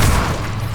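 Incendio fire spell cast in Hogwarts Legacy, a deep booming burst that flares loudly at the start and then settles into a rumbling, crackling fire that holds for under a second.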